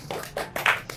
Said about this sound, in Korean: 촬영 협조해주신 사장님께 박수 한번